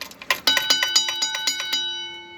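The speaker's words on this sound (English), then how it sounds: "Western Railroad Supply gong. I actually restored the insides of, and it's not hooked up to power, so I'll just have to" A restored Western Railroad Supply railroad crossing gong, unpowered and struck by hand, rings about a dozen bright metallic clangs in a quick uneven rhythm, close and loud, then a sustained ringing tone decays alone.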